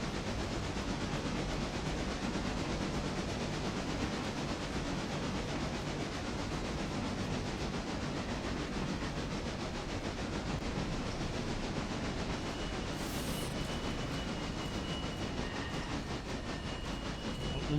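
Railroader video game trains rolling along with a steady rumble, hiss and faint clickety-clack, continuous and fairly loud throughout with no talking.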